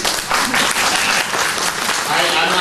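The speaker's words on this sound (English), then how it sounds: "I'm not doing this to get the gratuitous applause." Audience at a symposium lecture breaks into dense, sustained clapping that fills the room evenly and loudly from start to end.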